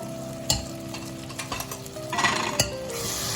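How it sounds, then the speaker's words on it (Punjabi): A spoon stirs turmeric, red chili, Kashmiri chili and salt into sambar in a pan, with scraping strokes, a couple of sharp clinks against the metal and a light sizzle underneath. "ਚੰਗੀ ਤਰ੍ਹਾਂ ਇਹਨਾਂ ਨੂੰ ਆਪਾਂ ਮਿਕਸ ਕਰ ਲਾਂਗੇ"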